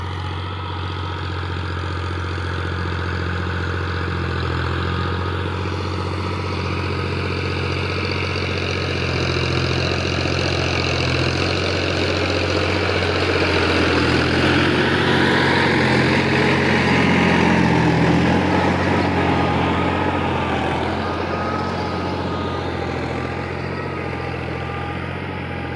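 A tractor engine pulls an 11-tine cultivator across a farm field, giving a steady, loud, close mechanical drone with a low throb that holds for the whole stretch, with no one talking.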